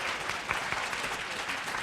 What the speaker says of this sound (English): Another round of applause for our moderator and our panel.